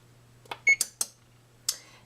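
A kitchen oven's control panel is keyed to preheat to 350 degrees, giving about five short, sharp beeps at irregular intervals, one a brief tone, close by over a faint steady electrical hum in an otherwise quiet room.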